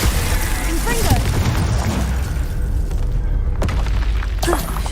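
Spell blasts from Hogwarts Legacy, ice, fire and explosive casts in combat, booming bursts layered over a dense game soundscape, with a couple of sharper impacts standing out.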